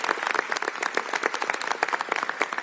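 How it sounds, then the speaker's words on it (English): A crowd at a bill signing applauds State Representative Dave Paul: brisk, close hand clapping with many distinct sharp claps in a lively, uneven patter from start to finish. "Give him a round of applause."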